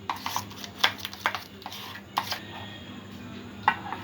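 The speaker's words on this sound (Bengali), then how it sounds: "বেসনটা একটু ফেটিয়ে নেব ভালো করে" Gram flour (besan) batter being whisked in a bowl, a series of irregular scraping strokes and light clinks of utensil against the bowl, close and moderately loud, with no talk.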